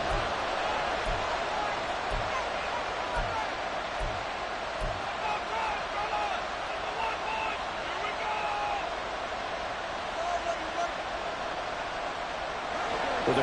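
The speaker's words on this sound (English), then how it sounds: "crowd here at MetLife Stadium in full roar" Large stadium crowd at MetLife Stadium roaring steadily through a late-game NFL third down between the Eagles and another team, a dense continuous wall of noise with a broadcast commentator's voice audible over it.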